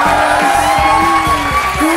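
A studio audience on the talk show To Be Honest 3.0 welcomes guest Feroze Khan with loud, close cheering and whooping, a dense crowd roar that fills the whole short moment.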